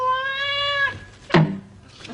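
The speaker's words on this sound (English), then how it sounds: "The cat's just choked itself to death on them!" A cat yowls in a comedy sketch, giving a long, drawn-out wavering cry followed by a short, sharp, louder meow, heard close with little else around it.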